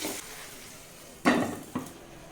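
Sliced onions tossed into hot oil in a pan for a Kerala jackfruit seed curry, two brief bursts of sizzling and stirring clatter over a quiet hiss, close by.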